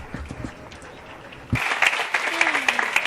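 Applause from an audience at a Think Big Demo Day talk swells suddenly midway, following a quieter stretch of murmuring, and continues as a loud, even patter to the end.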